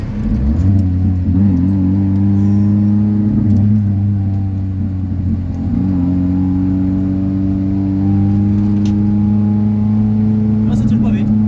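A Ford Fiesta engine pulls steadily on a cobbled road, a loud close drone with rising and falling harmonics across the whole stretch, apparently heard from inside the car.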